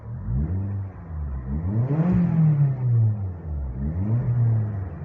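A turbocharged Mazda MX5 with about 230 horsepower revving near the car, the engine rising and falling in a few swelling, rumbling pulls with a peak in the middle, no talking over it.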